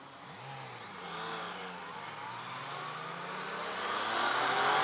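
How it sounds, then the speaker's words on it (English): A 2017 Yamaha FZ-09 motorcycle engine pulls with a rising, mid-pitched drone that climbs steadily in pitch and loudness as it accelerates, heard alone. "The FZ-09 engine is just a hoot to ride"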